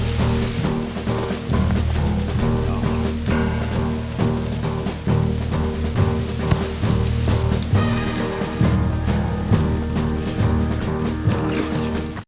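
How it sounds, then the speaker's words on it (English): Rain falling in the woods, a dense, steady patter of drops hitting leaves and nearby surfaces, close and fairly loud, with irregular sharper taps and no talking. "It's starting to rain."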